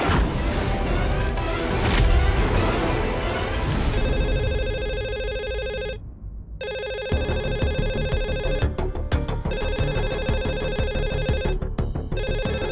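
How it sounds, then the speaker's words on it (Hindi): A telephone rings in a repeating electronic pattern, loud and close, with brief gaps between bursts, in an indoor home scene. "यहाँ तो कोई नहीं है, मैं ही फोन उठा लेती हूँ।"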